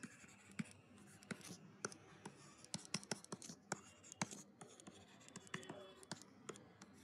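A pen moves quickly across paper while a map of Brazil is filled in. Steady scratchy strokes come with sharp ticks and taps, close and faint, and a quiet voice speaks at times.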